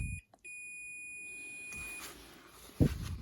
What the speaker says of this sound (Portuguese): Tá bipando, que é um fusível que tem que dar continuidade.